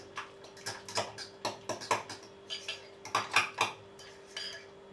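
A spoon stirs pumpkin and tomato tapenade with a little olive oil in a bowl, giving a series of close, light clinks and scrapes in an irregular rhythm, some in quick pairs.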